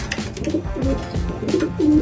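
A racing pigeon coos close by, with several soft, low throaty calls repeating at an uneven rhythm over faint rustling.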